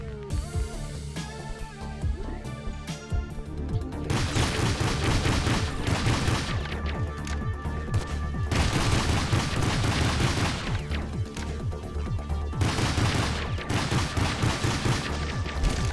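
A gun fires continuously in Doomsday Hunters, a roguelite twin-stick shooter. Rapid, loud volleys of shots run for about sixteen seconds with brief dips between bursts, along with occasional booms and crashes.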